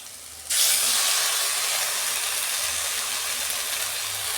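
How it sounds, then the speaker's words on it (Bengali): Ginger garlic paste hits hot oil in a pan with a sudden loud hiss that flares up at once and then holds as a steady, slowly easing sizzle, close and without talk. "আমি আদা রসুনের পেস্ট দিচ্ছি"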